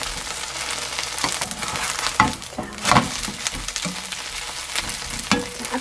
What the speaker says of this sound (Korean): 사면으로 기름이 좀 자글자글 끓어야 되거든요.